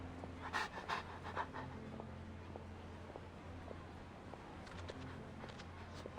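Panting of Swoof, a video game dog, in quick soft repeated breaths over a steady low game ambience with faint steps, no talking.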